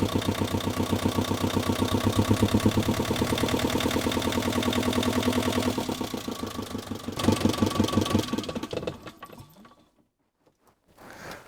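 A reinstalled boat engine idles with a steady, slightly uneven throb, loud and close for several seconds before it falters and cuts out, leaving near silence with a few faint knocks at the end.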